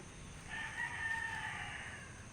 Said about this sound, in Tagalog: Ang dami mga manok.